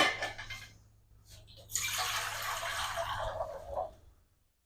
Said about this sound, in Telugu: ఇందులో వాటర్ పోసుకుందాము